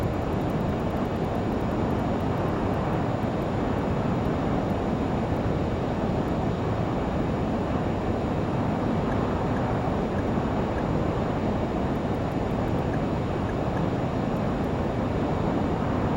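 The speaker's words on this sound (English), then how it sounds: "we gotta get the headset filter on because those engines are so loud" Learjet 35A jet engines in a flight simulator produce a loud, steady broadband roar that holds constant with no talk over it.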